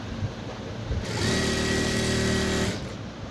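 A sewing machine stitches a straight line along a blouse border, a bright steady whir that starts after a second, runs about a second and a half, then stops into quiet room noise.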